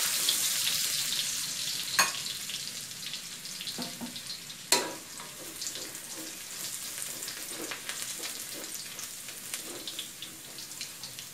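Minced garlic fries in a pan with a steady, bright sizzle, broken by a few sharp clicks and scrapes of stirring, close and without voices.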